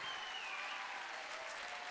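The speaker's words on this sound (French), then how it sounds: "un peu d'applaudissements" Brief, steady applause from an audience at an afternoon ceremony, even clapping throughout with no speech over it, heard from a moderate distance.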